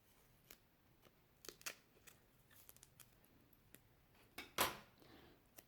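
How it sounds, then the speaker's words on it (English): Dedicated scissors snipping double-sided tape in a quiet crafting space: faint, scattered crisp clicks and snips across a few seconds, ending in one louder, sharper cut near the close. "I have my scissors dedicated for cutting double-sided tape"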